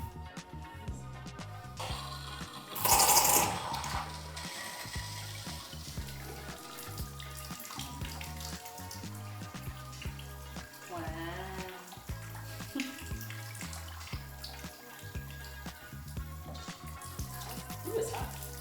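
Hot water runs from a newly installed kitchen tap in an off-grid cabin, a short gushing burst near the start followed by softer flow beneath people chatting.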